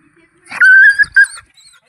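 An injured dog, attacked by a tiger at night and now limping, whimpers close by in two short, high, whining cries, the second briefer than the first.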